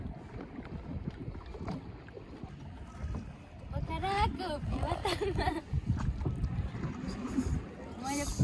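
A wooden rowboat crosses a lake near Pokhara toward a temple island, with water sloshing and paddle splashes close by, wind buffeting the microphone, and people chatting on board.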